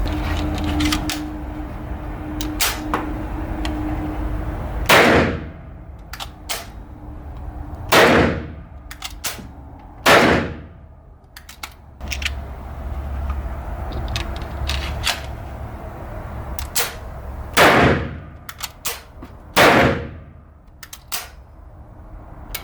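Sharp blank 9x19 mm shots from a P08 artillery pistol, about five loud reports spread irregularly across the clip, mixed with metallic clicks and handling clatter between them; no talk.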